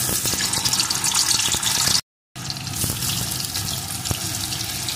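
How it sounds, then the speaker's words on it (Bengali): Paneer pieces frying in hot mustard oil give a steady, dense sizzle and crackle close by. The hiss runs continuously apart from a brief dropout, with no talking. "পনিরগুলো এপিট ওপিট করে একটু লাল লাল করে ভেজে নেব।"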